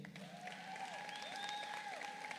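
Audience clapping for graduating students at a spring 2024 commencement ceremony, a soft, steady patter of applause heard from a distance with a faint tonal hum running underneath.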